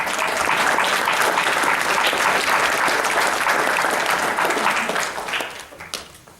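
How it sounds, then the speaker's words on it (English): A dense round of applause from a crowd of eighth graders and guests at a school rite of passage ceremony, loud and continuous, then fading out near the end. "Why don't you give yourselves a round of applause?"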